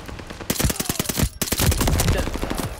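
Rapid bursts of player gunfire in the shooter Vanguard, with dense rattling shots in quick succession, a brief pause, then a longer sustained volley, loud and close.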